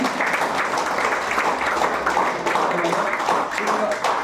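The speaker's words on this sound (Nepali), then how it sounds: "यसरी जमघट गराउनु हुने परमेश्वरलाई हामी ताली बजाएर धन्यवाद भन्छौँ" A church congregation claps together to thank God, a dense steady wash of many hands that carries evenly through the clip, with voices mixed in underneath.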